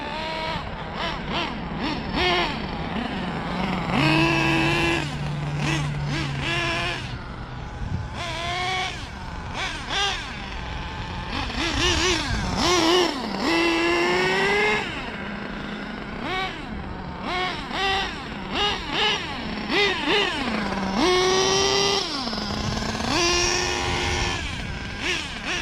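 Nitro engine of an HPI Savage GT-6XL RC monster truck, fitted with a modded LRP .32 and a Raptor pipe, warming up with a steady high whine that rises and falls through repeated revs.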